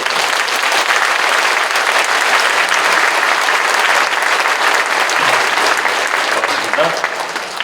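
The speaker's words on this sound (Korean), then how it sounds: "이석하실 때 큰 격려의 박수 다시 한번 부탁드립니다" A large congregation claps in encouragement at a church ceremony marking 140 years of Korean Christianity and 80 years of liberation, a loud, sustained wash of applause from start to finish.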